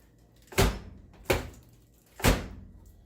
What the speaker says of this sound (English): it looks like we got a door that opens and closes